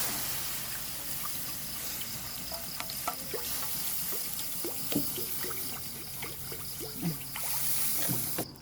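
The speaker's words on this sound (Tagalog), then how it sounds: "talagyan natin ng tubig" Water poured into a pan of pancit bihon during home cooking, a soft continuous splash and trickle with scattered clinks of utensils, fairly quiet and without voices.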